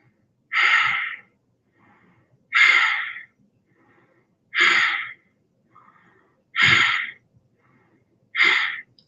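Five slow, deep breaths taken while holding a yoga pose, each a loud, close, breathy rush lasting under a second, spaced about two seconds apart with near silence between.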